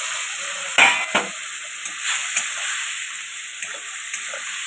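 Pointed gourds (potol) drop into hot spiced oil with cashew paste and whole garam masala, giving a constant hissing sizzle with a few sharp crackling bursts early on.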